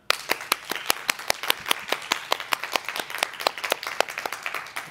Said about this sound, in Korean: 우리 이 시간 하나님 앞에 감사의 박수 올려드리십시다.